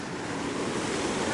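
Sea waves wash onto the shore at Batumi in May, a loud close broadband rush with wind buffeting the microphone.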